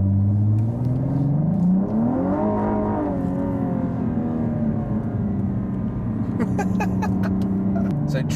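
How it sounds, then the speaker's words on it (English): A supercar in Dubai accelerates hard from inside the cabin, its engine note climbing steadily in pitch, then settling into a loud sustained drone, with brief clicks near the end. "The acceleration of this car is about to be tested."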